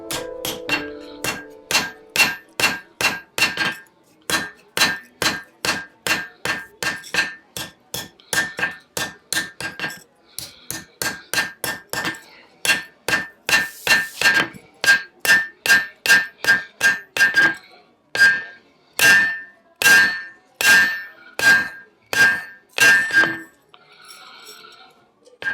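A blacksmith, an elderly forge worker, hammers iron to draw it out: a long run of sharp, ringing metallic strikes in steady rhythm, close and loud, with brief pauses between bursts and no talk.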